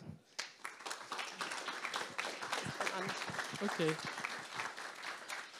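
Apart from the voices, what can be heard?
audience applause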